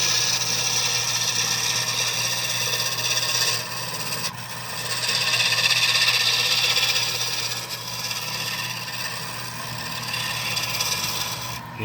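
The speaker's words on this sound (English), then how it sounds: "on a lathe, it's you working and machining the wood, you know, by hand with a tool" A tool cuts and scrapes wood spinning on a lathe while a mortar and pestle are turned, making a continuous rasping, hissing noise over a steady motor hum. The scraping swells and eases as the tool moves.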